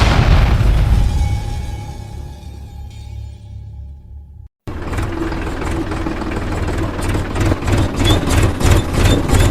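A farm tractor's engine runs steadily with a heavy low rumble and rhythmic chugging, briefly cut off near the middle before resuming loud and close.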